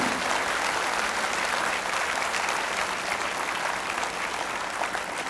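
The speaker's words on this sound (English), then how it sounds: "great round of applause for your parents, family, and your future" Loud, sustained applause from a large crowd at a college induction program at NIT Agartala, a continuous even roar of clapping with no pauses.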